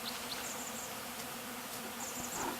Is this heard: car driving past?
no